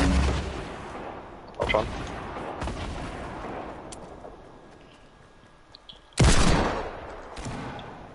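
Gunfire in a Fortnite duo match: sharp bursts of shots at irregular intervals, including a loud heavy burst near the end, while players talk over the action.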